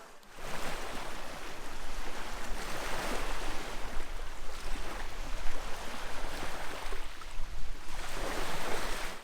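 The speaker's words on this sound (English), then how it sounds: "It's very relaxing down here at the beach, and we have literally waterfront spots." Surf washing onto a beach at Wheatley Provincial Park, Ontario, a steady broadband rush of waves with gentle swells in intensity, close by, with no talking.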